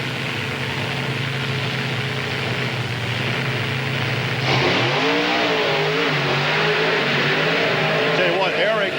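Monster truck engines at a 1995 Springfield race roar and rev together as the race starts, a steady loud drone that surges upward midway, with a commentator talking over it.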